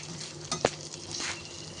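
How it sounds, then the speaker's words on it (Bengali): Garlic and green chillies frying in hot oil, a steady soft sizzle with a couple of brief stirring clinks, close and fairly quiet. "এগুলো একটু লাল করে ভেজে নেব"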